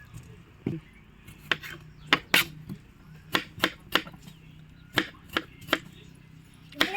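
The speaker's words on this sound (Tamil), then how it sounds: "நல்லா நறுக்கலாம்." A knife chops green chillies on a board, making a dozen or so sharp irregular cuts that land close by over a low background hum.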